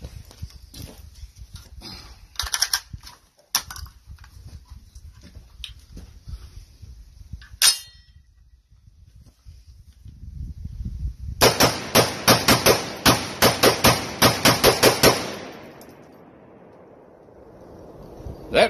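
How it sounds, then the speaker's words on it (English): A Bear Creek Arsenal Gen 2 side-charger rifle fired in a fast run of about a dozen loud, sharp gunshots at an outdoor range, preceded by scattered handling clicks and a few single shots. "I'm going to try shooting them fast and see what happens."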